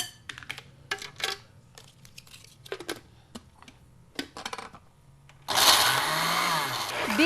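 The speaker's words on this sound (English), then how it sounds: "inner skin of the watermelon and the seed, and we will be grinding" Blender grinding watermelon inner rind and seeds switches on abruptly after a stretch of light tapping and clatter, then runs loud and steady with a dense whirring roar to the end.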